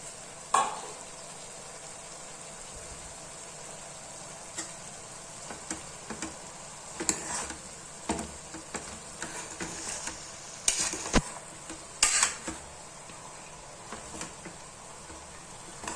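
Field beans (avarekalu) and grated coconut cook in ghee with a steady, soft sizzle, broken by occasional stirring scrapes and light ticks against the pan, close and wordless.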